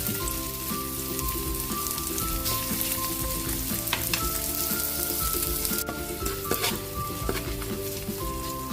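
Onion sautés in a hot pan with a dense, loud, crackling sizzle like rain on a surface, with intermittent scrapes of stirring throughout.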